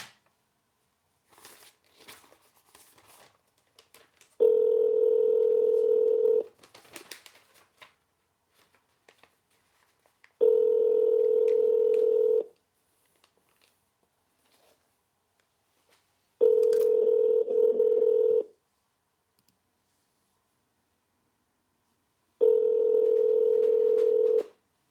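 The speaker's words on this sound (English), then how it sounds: "Let's call Lisa. 908" A telephone number is dialed on a touch-tone phone: four separate bursts of keypad tones, each about two seconds long, are spaced evenly apart with near silence between them, and faint shuffling sounds come before the first burst.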